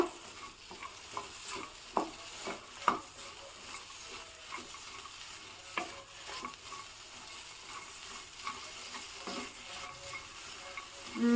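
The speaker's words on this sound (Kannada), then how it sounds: "ಇವಾಗ ಮೀಡಿಯಮ್ ಫ್ಲೇಮಲ್ಲಿ ಇಟ್ಕೊಂಡ್ಬಿಟ್ಟು ಇದನ್ನು ಚೆನ್ನಾಗಿ ಹುರ್ಕೋಬೇಕು" Okra stirring and frying in a pan over a medium flame, a steady soft sizzle broken by scattered scraping clicks of the spoon, close and without talk.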